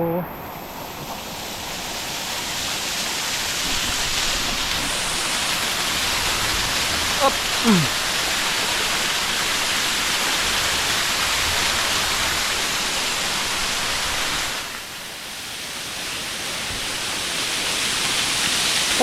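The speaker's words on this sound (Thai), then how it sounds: "น้ำตกบ่อนนี้นี่คักเลยได้นี่ เดี๋ยว มาไหลลงมาจะเทิง" A waterfall swollen by a heavy rainstorm roars continuously nearby, a broad steady rush of falling water with wind-like noise, dipping briefly near the end.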